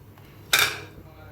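A spoon gives a single bright metallic clank against a kadai while semolina is stirred and roasted. Soft low background noise surrounds the clank.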